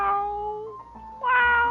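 Cat meowing in the video game Honkai Star Rail: two drawn-out, clear meows separated by a brief pause, close and loud with no talking.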